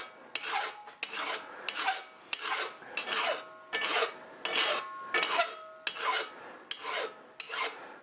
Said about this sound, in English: I think I'm going to use a little bit of filing first.